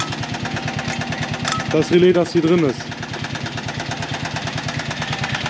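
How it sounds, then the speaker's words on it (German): A buggy's engine idles after warming up, a rapid, even knocking putter that runs throughout, while someone talks close by over it partway through. "Der Motor läuft jetzt viel besser."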